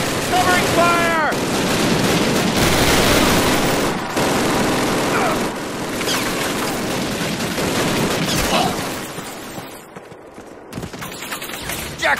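Dense gunfire in the Call of Duty video game, overlapping rifle and machine gun bursts in a sustained loud fusillade, with shouted voices mixed in before the firing thins out near the end.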